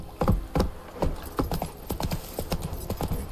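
Roach the horse from The Witcher 3 galloping, a quick run of heavy, close hoofbeats in an uneven repeating rhythm, with no voices.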